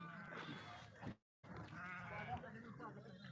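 A flock of sheep from the Balumama devotional herd bleats in a busy, overlapping chorus beneath steady human talk, broken by a brief moment of silence.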